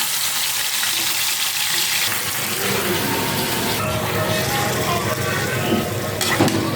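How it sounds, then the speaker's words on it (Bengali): Marinated meat dropped into hot oil sizzles loudly and steadily, a dense, constant frying hiss close by, with stirring noises and a brief clatter near the end. "আমার তেল গরম হয়ে গেছে, এখন আমি মাখানো মাংসগুলো দিয়ে দেবো।"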